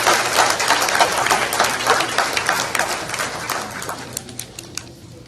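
An audience applauds the graduating class of 2024 at the Nevis Academy graduation ceremony, a dense burst of clapping that gradually thins and fades toward the end.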